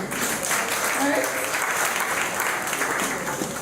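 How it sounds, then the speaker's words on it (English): Applause from an audience at a community meeting in a community centre in Negril, Jamaica, a steady wash of clapping lasting several seconds with a faint voice underneath. "you should give yourself a round of applause"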